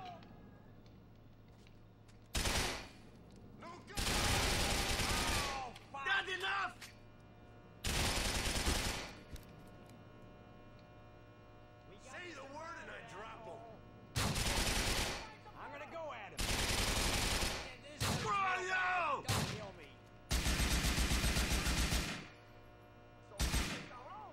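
Gunfire in the video game GTA 4 comes in several loud bursts of rapid automatic fire, a few seconds each, separated by quieter game sounds and brief talk.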